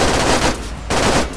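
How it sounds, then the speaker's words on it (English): Dense, loud automatic gunfire from a video game rattles on almost continuously, with one brief dip in the middle. "I'm shooting and none of my ammo's doing anything."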